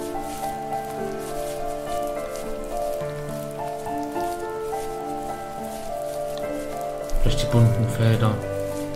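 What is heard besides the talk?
rain falling on fields in video game The First Tree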